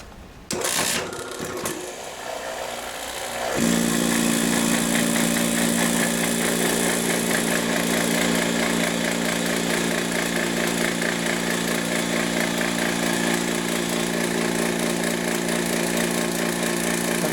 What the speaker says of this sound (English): so I will turn on the vacuum pump